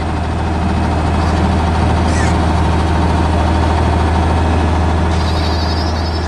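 A large green combine harvester engine in a 3D animation runs loud and steady while cutting wheat, a deep constant drone with a faint high whine rising briefly now and then.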